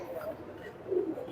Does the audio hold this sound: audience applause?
no